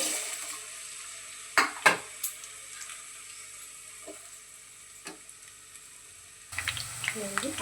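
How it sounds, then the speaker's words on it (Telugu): Onions frying in oil for a home-style mutton keema curry: a quiet steady sizzle with a few sharp spoon-against-pan clinks, and louder rustling stirring near the end. "ఫస్ట్ ఆనియన్ అయితే వేస్తున్నాను"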